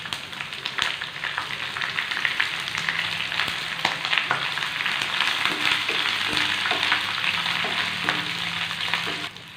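Onions, green chilies and curry leaves fry in a pan for a beef dish, with a steady bright sizzle and crackle throughout and a few soft stirring scrapes, no voices.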